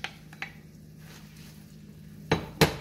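Chicken and vegetables stir-fried for Chinese fried rice, heard as a few sharp clanks of a utensil against the pan, the loudest two close together near the end, over a faint steady background.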